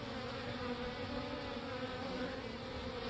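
A dense, steady buzz of many honeybees at a newly installed Langstroth long hive fills the air, close and constant, with no voices.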